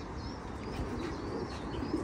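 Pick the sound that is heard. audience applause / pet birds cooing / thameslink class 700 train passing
pet birds cooing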